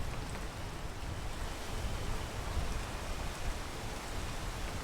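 Rain falling in the video game PEAK, a steady, faint hiss of broadband noise with no voices, unchanging from start to finish.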